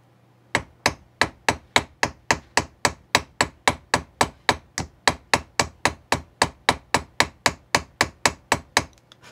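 Ball peen hammer tapping the end of a tube rivet to flare it, around thirty crisp, evenly spaced metallic taps in a quick steady rhythm, close and clear with no talk.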